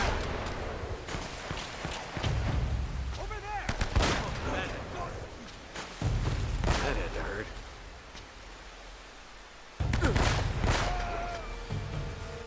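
Gunfire in the video game Uncharted: Drake's Fortune, several loud separated bursts of shots with a heavy low boom at each onset, spaced by quieter gaps, with someone talking between them.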